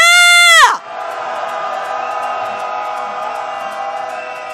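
Impeachment protest crowd at a candlelight march roars, a loud drawn-out voice cutting off abruptly and giving way to a broad, sustained wall of distant massed shouting.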